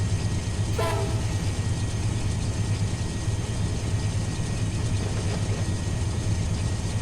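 CSX Q492 freight train rolling in the Run 8 railroad simulator, a steady loud low rumble of wheels and engine, with a brief horn blast near the start.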